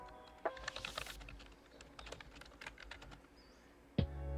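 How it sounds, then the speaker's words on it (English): Steady clicking of a computer keyboard, typed in quick bursts close to the mic, ending with a louder thump. "I'm typing in the box."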